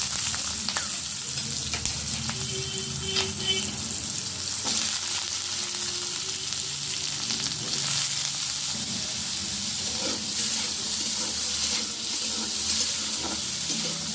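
Potatoes fry in hot oil tempered with cumin and slit green chillies, giving a continuous close sizzle with occasional scraping stirs and light clatter.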